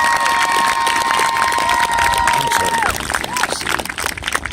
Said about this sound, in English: Let's give Miss Dawn a big round of applause